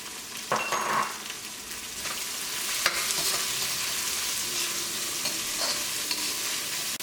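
Onion, garlic, ginger, curry leaves and green chilli frying in a pan for Kerala-style dal fry, a continuous close sizzle with scattered crackles and spoon stirring.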